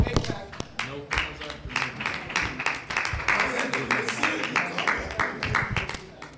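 An audience at a congressional candidate event at the Detroit Yacht Club breaks into steady applause, many hands clapping in a dense, rapid patter that holds fairly loud throughout, with voices talking and calling out over it.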